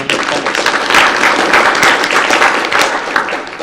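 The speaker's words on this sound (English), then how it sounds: "Let's give a round of applause." A conference audience of department heads and chairs gives sustained applause, dense overlapping clapping at close range throughout.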